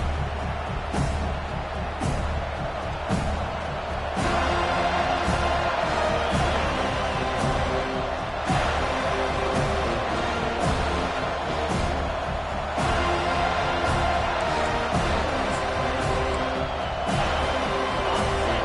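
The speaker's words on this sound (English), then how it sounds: "this crowd is fired up. Listen to this noise here." A large college football stadium crowd at Clemson vs FSU roars continuously, a dense wall of cheering and shouting that swells at moments and never lets up.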